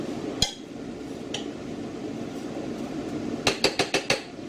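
Pears cooking in a pot for pear sauce are stirred, with a metal utensil clanking against the pot once or twice and then tapping in a quick series of five clinks over a low background hum.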